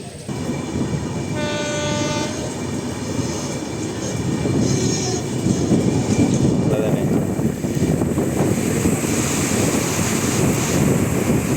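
Cuddalore–Mysore Express train running on rails in Tamil Nadu, heard from on board: a loud continuous rumble with rhythmic clatter, a sustained horn blast early on, and wind buffeting the microphone.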